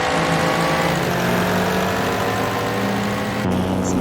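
Classic Grand Prix race cars roaring off the start at Cadwell Park in a racing video game, with several loud engines droning and revving together in a dense, continuous roar and a brief dip near the end.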